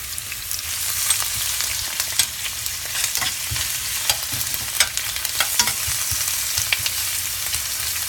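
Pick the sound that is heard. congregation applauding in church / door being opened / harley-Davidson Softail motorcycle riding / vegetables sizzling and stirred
vegetables sizzling and stirred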